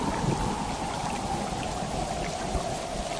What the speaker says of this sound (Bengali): সেদিন সন্ধ্যা থেকে শুরু হলো খুব ঝড় বৃষ্টি।